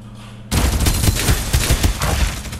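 Sustained rapid gunfire in the battle royale game Farlight 84 bursts in after a half-second of quiet hum, dense overlapping shots rattling loud and close for the remaining two seconds.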